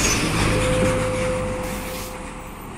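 An Arca Turismo double-decker coach pulls into the Recife bus terminal with a steady engine drone and a sustained whine, loud at first and easing off slightly as it passes.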